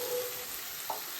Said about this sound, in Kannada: ಕ್ಲೀನಾಗಿ ಪಿಂಕಿಶ್ ಆಗೋವರೆಗೂ ಫ್ರೈ ಮಾಡ್ಕೊಳ್ಳೋಣ